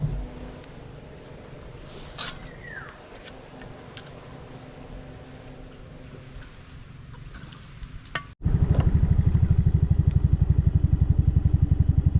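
A Yamaha Mio Sporty scooter on a long solo ride in Southern Leyte. Quiet rushing and clatter give way abruptly to a loud, close, steady engine drone for the last few seconds.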